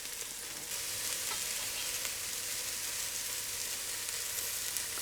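Vegetables brown in a hot pan for seafood stock, giving a steady, close, hissing sizzle that runs unbroken throughout with no voices.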